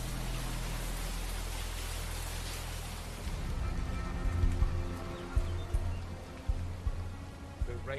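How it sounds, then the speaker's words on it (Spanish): Heavy rain pours steadily at an excavation site in the Colosseum in Rome, a dense broadband wash that later grows louder with irregular heavy drops and splashes striking nearby surfaces. "Está lloviendo mucho."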